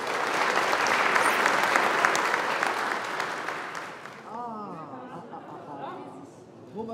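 An audience at a national architecture event applauds loudly for about four seconds before the clapping fades, and a voice begins speaking as a few claps linger.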